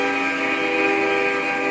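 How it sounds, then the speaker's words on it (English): A train horn blares steadily and loudly throughout, a sustained multi-tone blast from a passing train with no voices. "If the train passes,"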